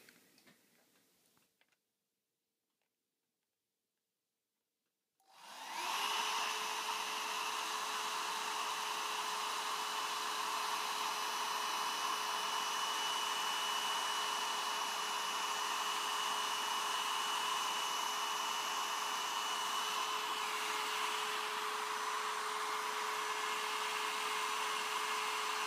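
A heat gun shrinking heat-shrink tubing over ESC wires on a HobbyKing Alien 560 quadcopter build, blowing as a loud, steady hiss from a few seconds in after near silence, with a faint ticking.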